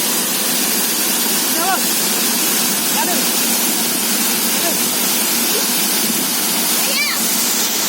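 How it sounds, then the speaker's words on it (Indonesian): A waterfall at Seuhom, Lhoong, Aceh Besar roars as a loud, constant wash of rushing water, with faint, brief voices calling out over it. "Ada air terjun lagi."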